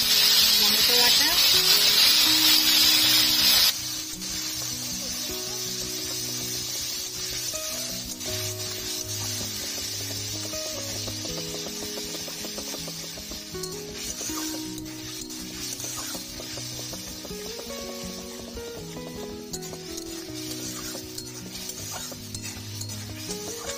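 Onion, ginger and tomato pastes fry in a pan with a loud, steady sizzle that swells sharply at first, then settles into a continuous crackle with occasional stirring scrapes.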